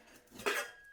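A small metal pot clinks briefly as it is picked up and set down, a single close clatter with a faint ringing tail, no talking.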